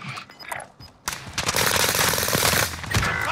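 Gunfire in Warzone on Rebirth Island: after a quiet second, a loud, dense burst of rapid automatic shots runs continuously close by to the end.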